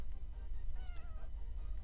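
A house cat lets out a couple of clear, close meows with rising and falling pitch, heard alone over a low background rumble.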